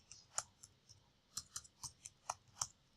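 Sparse, light clicks of typing on a computer keyboard, a handful of quiet key taps spread irregularly over a few seconds with no talking.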